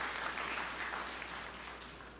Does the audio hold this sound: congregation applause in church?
yes